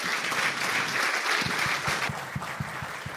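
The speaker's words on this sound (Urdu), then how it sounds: "ایک بار آپ سب کے لیے اور ان دونوں کے لیے زوردار تالیاں" An audience at a cultural storytelling event claps loudly and continuously, the dense applause thinning toward the end while a few distinct, heavier claps stand out.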